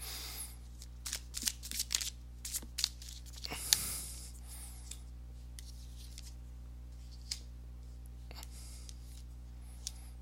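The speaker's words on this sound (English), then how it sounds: "let me go ahead and give these cards a shuffle" Tarot cards shuffled in quick bursts of crisp riffling and snapping during the first few seconds, then scattered soft card handling over a steady low hum.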